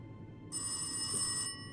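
An old telephone rings in the Rise of Insanity horror game, a steady electronic trill that starts after a short pause and runs for about a second over a low ambient hum, then cuts off. No one talks.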